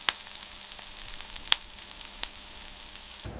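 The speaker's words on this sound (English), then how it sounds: "The seeds are roasting, releasing their oils into the crust." Quiet, close sizzling crackles of seeds roasting on a baking bagel crust, with a few sharp pops and snaps, soft and irregular, with no talking.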